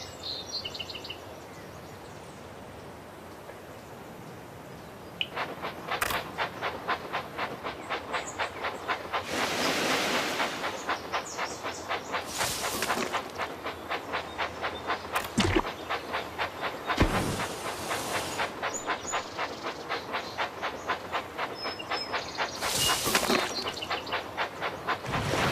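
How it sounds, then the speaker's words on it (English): A Thomas and Friends Minis toy train runs along a Sea Tunnel track set with a quiet, rapid mechanical clicking. Louder rattling bursts break in now and then. "Look how wonderful your train set is."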